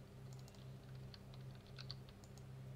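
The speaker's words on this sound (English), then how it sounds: "I'm typing." Computer keyboard typing during a Goat Simulator game session, faint scattered key clicks in short bursts over a low steady hum, with no voices.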